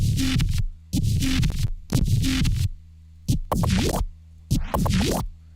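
A deep synth bass plays short, dry notes in a choppy pattern with clear gaps between phrases, some notes sliding in pitch, loud and close.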